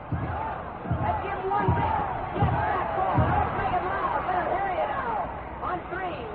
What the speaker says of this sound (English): the Badger cheering section sets up the howl of go, go, go